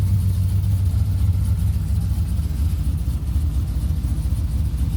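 A car engine idling loudly on a cold start with open cutouts and a Walla S-type muffler, giving a deep, steady, throbbing rumble close by with no talk.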